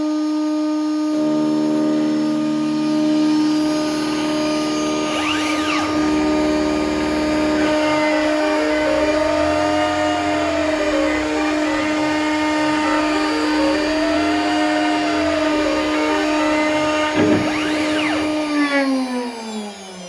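An X-Carve Pro CNC router spindle runs with an Amana V-carve bit cutting a workpiece, a loud steady high whine with shifting tones as the gantry moves and the pitch sweeps, continuous and close with no talking.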